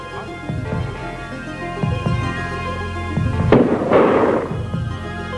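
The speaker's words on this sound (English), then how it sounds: "and pyrotechnics, the use of noise-making devices." Several loud bangs and pops from pyrotechnic noise-making devices used to scare birds burst out at irregular intervals, with one sharp crackling blast standing out midway.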